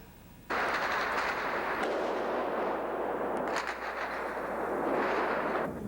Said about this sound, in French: Un caméraman dans une rue de Sarajevo qui filme des échanges de coups de feu